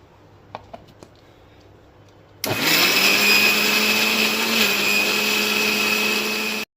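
A few light clicks, then a mixer grinder grinding green chutney with green chillies starts with a loud, steady high-pitched whir that runs for several seconds before stopping abruptly.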